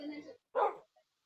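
A dog barks in the video game Minecraft, one short, clear yap standing alone after a stretch of talking voice.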